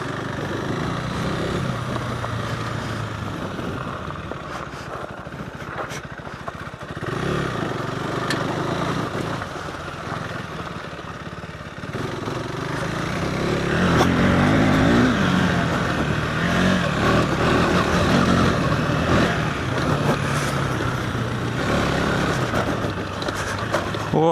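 A KTM 390 Adventure R motorcycle is ridden in laps around a small track, its engine droning and rising under throttle with wind buffeting, loud and continuous throughout, swelling louder midway.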